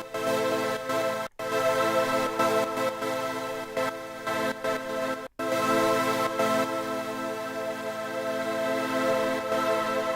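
GATELAB gate sequencer on an iPad in flow mode, each step set to its own volume level, chopping a sustained tone into a loud rhythmic pattern with two brief drops to silence.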